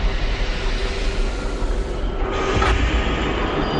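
A train rumbles loudly and steadily as it slows toward a stop, with a broad roaring wash of noise, a brief dip and then a low thump near the end.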